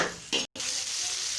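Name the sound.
onions frying in a pan for okra curry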